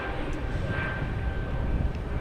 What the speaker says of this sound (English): That's JetBlue, flight 285 to Raleigh.